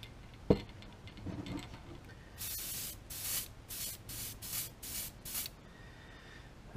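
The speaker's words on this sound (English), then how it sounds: "those paints that I used didn't spray the way I was used to or wanting them to" An airbrush sprays paint onto a topwater Spook fishing lure, giving a series of short hissing bursts close by, preceded by a few faint clicks and handling noises.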